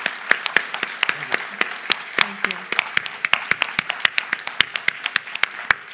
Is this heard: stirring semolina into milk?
no